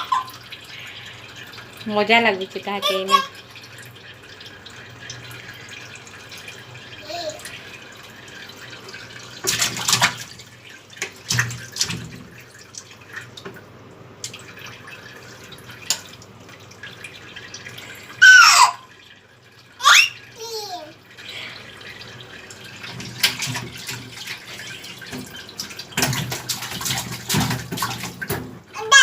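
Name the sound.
child playing and splashing with water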